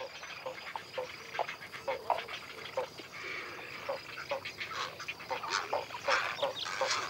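Nesting colony of herons, egrets and spoonbills in old cork oaks in the Doñana wetlands, with a dense, continuous chorus of overlapping squawks and croaks at moderate distance, no talk over it.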